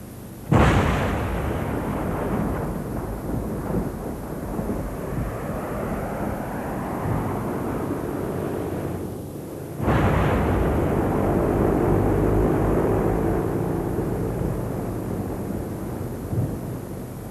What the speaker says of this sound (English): their C-130 transport crew demonstrates the jet-assisted takeoff